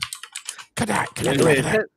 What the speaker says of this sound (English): He is going wild on that keyboard